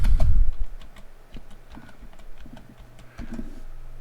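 Fingers tap out a short entry on a computer keyboard, a quick uneven run of close, crisp clicks with a couple of brief pauses and no talk.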